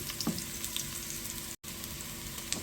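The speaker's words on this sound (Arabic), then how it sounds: "ونقلبهم كده لمدة دقيقتين لما يتشوحوا معانا" Ingredients for a tomato pizza and pasta sauce sautéed and stirred in a pan, a steady close sizzling hiss with a brief cut near the middle.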